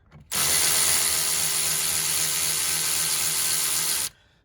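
A power tool loosens fittings on the exhaust back pressure sensor tube, a single continuous high whirring burst lasting about four seconds that starts and stops abruptly, close by, with no talking.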